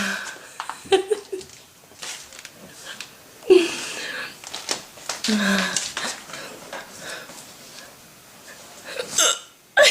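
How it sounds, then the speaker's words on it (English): A young woman's hiccups pop out irregularly, a few sharp gulps among soft laughter, wheezy breaths and faint background clatter, with quiet voices around. "They're big hiccups."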